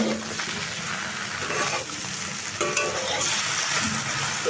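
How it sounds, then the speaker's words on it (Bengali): Okra, onion and tomato fry together in a pan with a steady close sizzle, while a utensil stirs and scrapes through the mix in uneven strokes, no voices. "এইভাবে ঢেঁড়স পেঁয়াজ ও টমেটোগুলোকে সবগুলোকে একসঙ্গে ভেজে নিচ্ছি"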